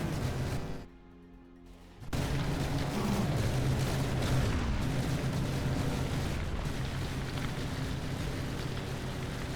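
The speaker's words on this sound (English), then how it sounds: "I love that the pack cannon is actually doing a lot of the damage." Heavy battleship cannon fire in the naval combat game From the Depths, a deep rumbling barrage of booms that drops out briefly near the start, then resumes as continuous loud, dense artillery roar.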